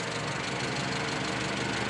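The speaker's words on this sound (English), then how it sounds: "It's just his normal lifter tick." A Mazda engine idles close by with a steady, rapid lifter tick tapping through its hum, loud and continuous, with no voices.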